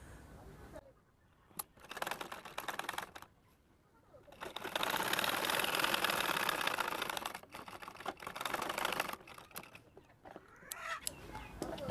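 A sewing machine stitches the back pocket of a pair of pants in short, quiet runs of rapid whirring, broken by pauses and small clicks from handling the fabric.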